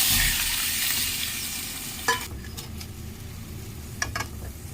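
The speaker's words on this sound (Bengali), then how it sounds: "মশলায় কষানো হচ্ছে" Spice masala with chilli, salt and turmeric frying in a pan for a soybean and potato dish, a continuous sizzle nearby, broken by a few sharp scraping stirs of a spoon, with no talk.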